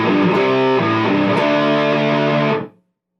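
Distorted electric guitar plays a rhythm intro, loud thick chords ringing together for about two and a half seconds before cutting off into silence.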